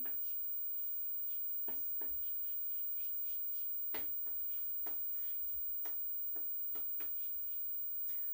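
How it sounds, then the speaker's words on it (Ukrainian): Pen or pencil writing out a chemistry definition in a classroom lesson, with scattered soft scratches and light taps of varying rhythm over quiet room noise, and no talk. "Давайте запишемо визначення."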